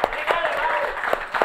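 A small studio audience gives scattered applause on a talk show, a few distinct claps over a murmur of voices and speech.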